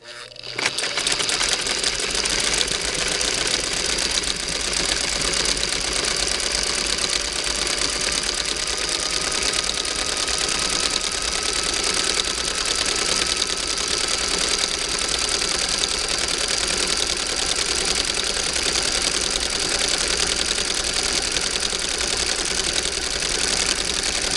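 A 1959 Singer Spartan sewing machine fitted with a Singer automatic zigzagger runs through fleece in one continuous, loud mechanical whir and clatter that holds steady throughout.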